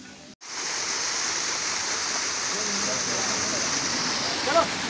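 A small waterfall beside a mountain road gives a steady, loud rushing wash of falling water, continuous after a brief cut at the start, with faint voices under it.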